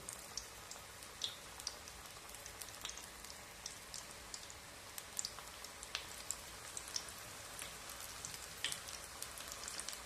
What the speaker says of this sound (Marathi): चला आता आपण पालक भजी सोडून घ्यायचे तेलामध्ये असं छोटा छोटा गोळा घेऊयात आणि असे सोडायचे